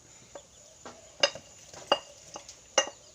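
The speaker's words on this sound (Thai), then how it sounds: "ต่อไปก็จะเป็นการตำพริกครับ" A stone pestle pounds chilies in a stone mortar for a Thai sweet gourd curry, a handful of sharp separate thuds spaced unevenly over a quiet background.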